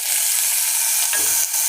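Whole cardamom pods, one split open, and four cloves frying in hot oil for a paneer chana dish, a steady close hiss with a brief louder crackle near the end, no voices.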